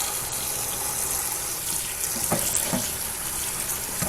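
Cold tap water runs steadily over rose petals and lavender being rinsed by hand in a colander for a floral mead, a continuous close splashing with no talk.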